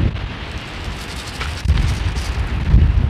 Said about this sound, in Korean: 오, 비 와요.